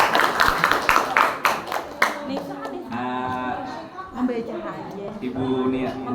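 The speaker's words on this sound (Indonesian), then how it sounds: "Terima kasih kepada kelompok 1 kemudian beri aplaus dulu" An audience claps after a group presentation in a classroom, a burst of applause in the opening seconds that fades as a voice starts speaking over the remaining clapping.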